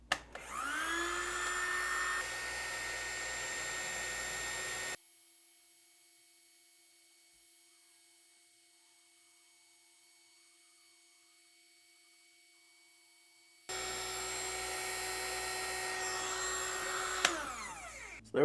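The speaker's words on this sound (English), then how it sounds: "just let the heat gun do the rest" Seekone heat gun blows hot air onto solder with a steady whooshing fan roar and a faint whine, running for several seconds, dropping out to near silence, then resuming just as steadily.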